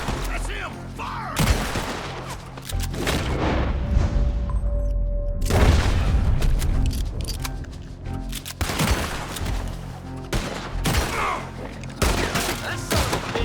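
Repeated volleys of gunfire in Red Dead Redemption 2, with loud bursts of several shots and booming reports separated by brief quieter gaps. Distant voices and shouts can be heard between the volleys.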